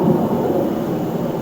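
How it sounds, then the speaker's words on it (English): A loud, low roar of an airplane passing directly overhead above cloud cover, a steady broadband rumble that fills the whole moment with no break. "That's the loudest airplane that I've ever heard in my life."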